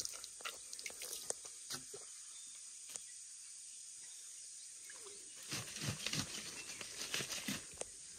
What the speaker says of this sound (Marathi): भरून घेऊया ना पाणी आपल्याला घरी न्यायला